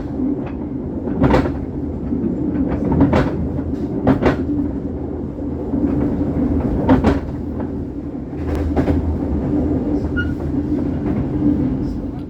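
A K3 economy railcar of the KA Motis train rides stiffly over rails through mountain curves, a steady close rumble with repeated clanking jolts and rattles from the carriage.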